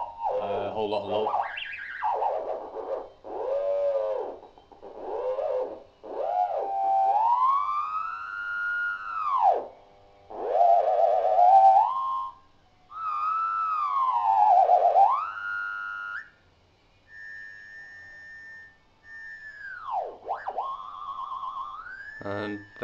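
A homemade theremin in a black plastic storage case sweeps and wails through rising and falling glissandos in bursts, imitating the swooping effects of a song, with gaps between phrases and no talking.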